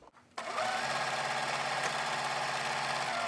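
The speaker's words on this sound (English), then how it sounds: "Put it under the machine, lift the presser foot." A sewing machine chain-piecing small quilt scraps starts up after a brief pause and then runs at a steady, fast, continuous hum with rapid needle chatter, loud and close with no talking.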